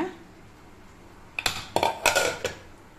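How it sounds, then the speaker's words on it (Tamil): Metal clanks and clinks as a pressure cooker lid is handled and lifted after cooking sambar lentils, a few sharp knocks in quick succession over steady room noise. "குக்கர் திறந்து பார்க்கலாங்க"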